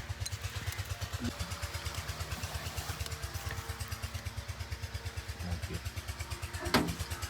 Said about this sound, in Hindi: ट्रैक्टर फिर से स्टार्ट हो गया।